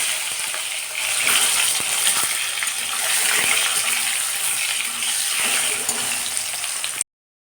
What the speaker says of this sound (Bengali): কড়াই তেল বসিয়ে দিয়েছি ডিমটাকে এবার ভাজবো